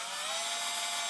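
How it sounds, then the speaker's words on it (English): A power drill boring through a fire staff, a short, bright, steady high-pitched whine that runs unbroken and fairly loud for about a second. "and we drill into the staff"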